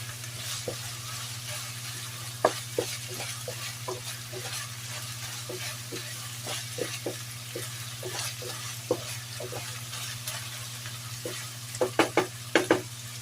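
Ground beef sautéing with onion and garlic in a pan, a continuous sizzle over a steady low hum, broken by many sharp spatula scrapes and taps in an uneven rhythm that cluster toward the end, close with no talking.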